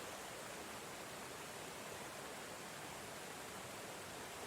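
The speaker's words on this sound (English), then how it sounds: "I've never been atop a waterfall before." A waterfall roars steadily from up close, a dense, unbroken rush of falling water that fills the whole stretch with no pauses and no voices.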